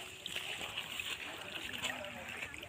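Steady flow of water running for irrigating plants on a farm, a continuous splashing rush close by, with someone talking over it.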